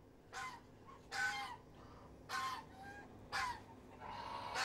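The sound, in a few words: geese, including traditional white geese and Toulouse geese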